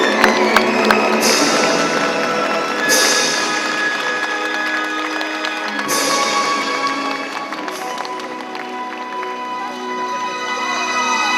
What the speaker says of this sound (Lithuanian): Klaipėda ploja Gretai